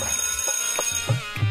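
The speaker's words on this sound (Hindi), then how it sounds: "फोन बाजिस का गा" A phone rings in a domestic scene from a Chhattisgarhi comedy film, a repeating electronic ringtone heard alone at moderate loudness, its tones pulsing steadily.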